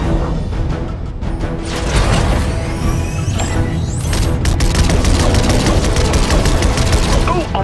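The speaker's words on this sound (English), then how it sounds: "I was hoping we'd have an excuse to try out the battle bus's laser cannons." Laser cannons on the battle bus fire at drones during a Fortnite galactic live event, a dense rapid barrage of zapping shots and booms that runs continuously and loudly with streaking sweeps over the game's mix.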